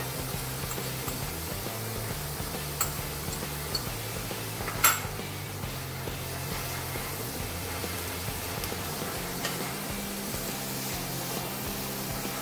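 Shredded cabbage for spring roll filling stir-fries in a pan with a low, continuous hiss, broken by occasional light clinks of a utensil against the pan.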